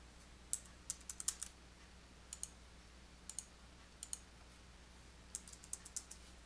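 Keys on a computer keyboard are typed in short irregular bursts of quick clicks while an amount is entered in accounting software, close and clear over a quiet room.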